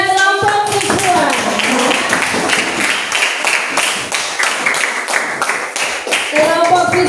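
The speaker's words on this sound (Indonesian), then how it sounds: "beri aplaus kepada kelompok visual" Classroom applause for a student group that just presented on visual writing, a dense broadband clatter of many hands clapping steadily throughout, loud and close, with some voices mixed in.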